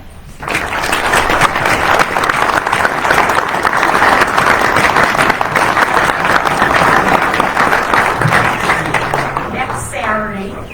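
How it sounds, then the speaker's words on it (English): A crowd at a legislative coffee in Sioux Falls breaks into loud, sustained applause for local legislators, dense clapping swelling quickly and fading near the end as a voice begins to speak. "And I think they deserve a round of applause"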